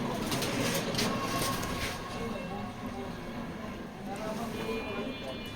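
A female racing pigeon coos softly from close by, low murmuring calls repeating under someone talking and a steady background hum.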